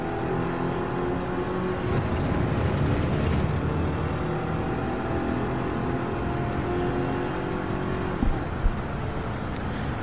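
Race car engine droning steadily through a lap of Grand Valley South in Gran Turismo 7, a sustained close tone with shifting pitch as it holds pace toward the tunnel and final corner, with no voices.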